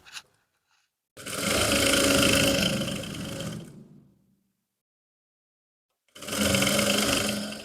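An electric sewing machine stitches a trouser seam in two loud, whirring runs, about three seconds and then one and a half seconds long, with a silent pause between them.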